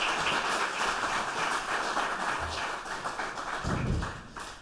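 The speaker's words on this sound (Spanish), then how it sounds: "Un aplaudiment també." Audience applause at the opening of the fifth edition of a symposium, a dense, steady wash of clapping from a full hall that carries on for several seconds with a few louder thumps near the end.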